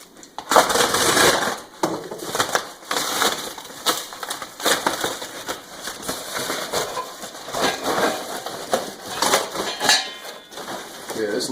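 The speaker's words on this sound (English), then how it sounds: "Cut that open." A knife or box cutter slices open packaging on a Harbor Freight manual tire changer, with loud crunching, ripping and rustling of cardboard and plastic in bursts, close by and with no talk.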